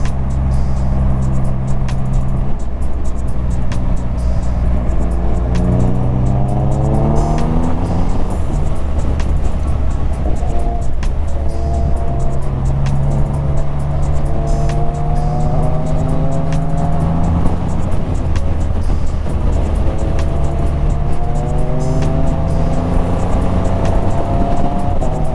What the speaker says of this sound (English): The one advantage of having such a big capacity engine is the engine braking is pretty high